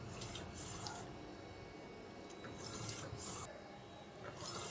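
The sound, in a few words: DTF printer printing with white ink circulation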